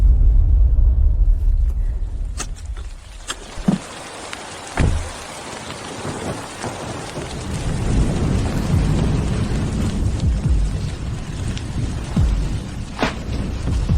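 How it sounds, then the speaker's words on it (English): Heavy rain pours steadily with a rushing hiss, broken by a few knocks and thuds nearby; loud and continuous throughout. "It's pouring rain."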